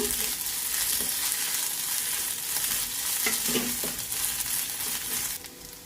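Onions with ginger-garlic paste fry in a pan for a rajma curry, a continuous close sizzle with occasional scraping stirs, fading slightly at the end.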